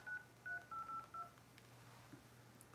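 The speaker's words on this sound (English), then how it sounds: "Okay, I'm dialing a number." Telephone keypad dialing tones: four or five short, evenly spaced beeps, fairly faint over a low hum, followed by a quiet click near the end.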